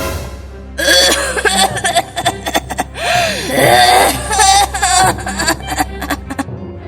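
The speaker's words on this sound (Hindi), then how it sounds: "जोर जोर से खांसी आने लगती है" A woman coughs in harsh, repeated fits, loud and close, with strained wheezing breaths between bursts.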